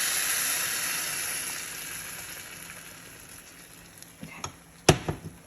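Chicken broth mixture sizzles in a hot pan with a steady broad hiss, then a few sharp scrapes and clinks of a spoon stirring near the end.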